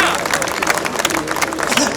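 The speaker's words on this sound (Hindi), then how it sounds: "रवि भाई के लिए जोरदार तालियों से" An audience applauds enthusiastically for a speaker at a rally in Jantar Mantar, Delhi, with dense, continuous clapping up close and crowd noise mixed underneath.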